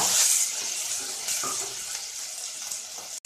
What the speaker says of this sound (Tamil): அதோட பச்சை வாசனை போகிற அளவுக்கு நல்லா வதக்கிக்கோங்க